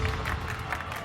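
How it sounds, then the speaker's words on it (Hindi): A crowd claps and cheers in a brief burst of steady, dense applause that fills the whole moment, with some voices mixed in. "क्या ये सब लोग यहाँ ताली क्यों बजा रहे हैं?"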